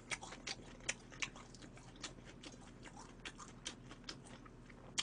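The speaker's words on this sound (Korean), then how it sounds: "쩝쩝 소리가 좋아?" Close, quiet mouth sounds of chewing grilled Korean hanwoo beef with perilla leaves, with soft wet smacks and bites repeating in an uneven rhythm over a low steady background hum, no talking.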